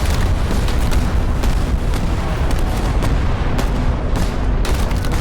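Ship cannons in a sea battle in the video game Return to Monkey Island firing in a busy, repeated barrage of booming blasts, loud and close, one after another for several seconds.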